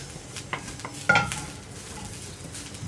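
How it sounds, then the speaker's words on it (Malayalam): Split moong dal is dry-roasted in a pan for Onam payasam, with light scraping stirs, soft rattling grains and one sharper clank of the spoon against the pan. The sounds are close and there is no talk. "പരിപ്പ് വറുത്തോട്ടെ."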